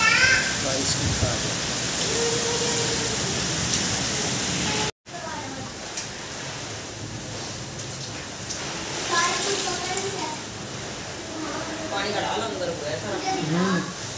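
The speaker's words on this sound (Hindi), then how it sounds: "सर बारिश का पानी इकट्ठा किया जा रहा है" Heavy rain pours down with a steady broadband wash, apparently driven by strong wind, with water running in close by; voices talk over it throughout, and the sound cuts out briefly partway through.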